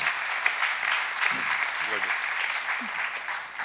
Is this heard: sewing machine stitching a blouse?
no